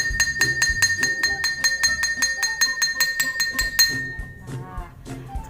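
A glass partly filled with water is struck over and over in a quick, even rhythm, each bright, ringing clink sounding close. After about a dozen hits the tapping stops and the ringing fades under a voice.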